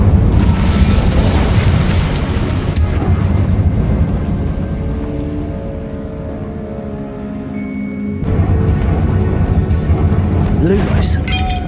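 The Incendio fire spell in Hogwarts Legacy goes off as loud, booming blasts with a sustained roaring burst that fades and then swells again near the end.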